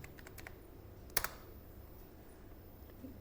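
A few quick keyboard keystrokes come close together in a short burst, with a faint tap or two afterward, all quiet against a low room hiss.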